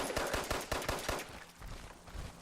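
Automatic gunfire in the game Fallout 76: a rapid string of sharp shots in a steady rhythm, loudest at first and then thinning into scattered quieter reports.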